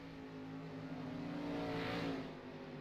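A dirt street stock race car at Volusia accelerates on a qualifying lap, a steady faint engine drone that swells as it passes and then fades into the distance.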